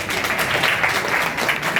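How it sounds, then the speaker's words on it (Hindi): A seated group claps together at a training academy session, a steady, moderately loud patter of many hands with slight swells, no talking over it. "ताली बजाओ"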